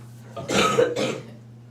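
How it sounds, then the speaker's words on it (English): A few harsh, close coughs in a short burst, rough and throaty, then quiet. "I'm getting ready to go into a coughing fit"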